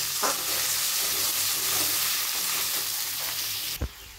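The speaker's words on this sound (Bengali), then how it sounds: "এবারে উচ্ছে আলু গাটি কচুটাকে দিয়ে দিলাম কড়াইতে। ভালো করে ভেজে নেব লাল করে।" Constant loud sizzling of bitter gourd, potatoes and taro frying in a wok, with a brief clatter near the end.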